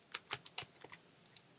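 Quiet, close typing on a computer keyboard, a short run of several crisp key clicks at an uneven rhythm followed by two lighter taps, with no talking.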